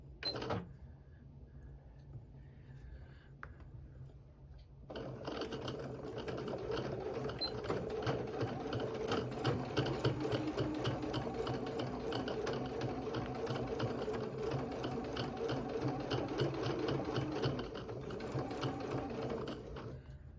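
A sewing machine stitches a narrow one-eighth-inch seam along a fabric edge. After a few quiet seconds it starts and runs continuously with a rapid, clattering mechanical rhythm, close and steady until near the end.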